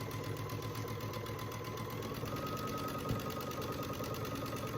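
A sewing machine runs steadily, stitching a quarter-inch seam on an heirloom quilt top with a continuous rapid mechanical chatter and hum, close and even throughout.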